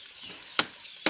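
Native chicken adobo sizzles steadily in a frying pan, a soft close hiss broken by two sharp bright crackles or stirring scrapes.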